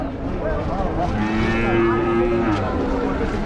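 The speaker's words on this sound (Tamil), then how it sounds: "நல்ல அழகான காளைங்க" Large bulls low at Vaniyambadi cattle market, a long steady moo rising over a dense, noisy crowd background, with a faint voice in the mix.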